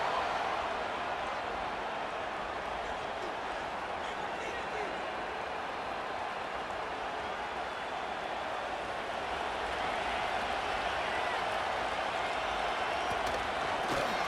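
Steady crowd roar in a Madden 25 football video game stadium during a Saints vs Cowboys simulation, a broad continuous swell of oohs and ahs from the stands filling the whole stretch without pauses.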